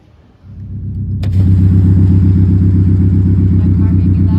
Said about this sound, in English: My car may be loud, but I finally have money in my account.